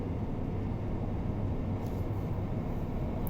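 A four-car train passes in the Train Sim World game on the Great Western Express run between Didcot Parkway and London Paddington, a steady loud rumbling roar of wheels and traction that stays constant and close throughout.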